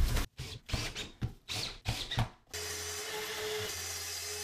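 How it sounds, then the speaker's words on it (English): An oscillating multi-tool squares off a circular-saw cut in a Caberfloor chipboard floor, giving several short rasping bursts at close range, then a steady buzzing hum. "The multi-tool did actually come in handy here, just for squaring off a cut I'd made with a circular saw."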